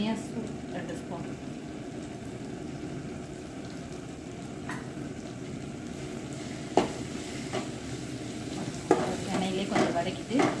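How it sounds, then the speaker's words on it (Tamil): Chilli, turmeric and coriander powders fry in oil for a Tamil sundakkai kuzhambu, with steady low sizzling, occasional clinks and scrapes of stirring, and faint background voices. "எண்ணெயிலே கொஞ்சம் வதக்கிட்டு"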